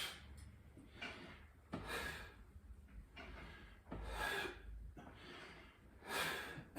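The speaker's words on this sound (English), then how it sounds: "I'm breathing all the air out as I contract." Forceful exhalations during an oblique ab exercise come in a steady rhythm of about five breathy, rushing outbreaths, close to the microphone and with no talk.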